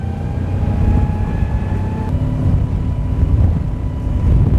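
A RAND Spirit 25 motorboat's engine drones steadily at high power as it accelerates to top speed, about 39 knots, with a continuous low rumble, rushing water and wind noise. There are no voices.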